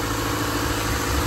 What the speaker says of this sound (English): we do have an engine. It is running, as you can hear